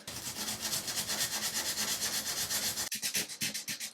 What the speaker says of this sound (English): I'm just going to sand this down. Now, this is the 400 grit sandpaper.